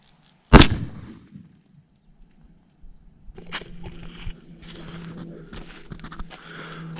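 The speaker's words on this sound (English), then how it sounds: "this first shot is going to be number 4 buck" A 12 gauge Benelli Ethos shotgun firing number 4 buck outdoors, one sharp, loud close report with a decaying echo, followed by faint rustling and handling noise as the shooter moves afterward.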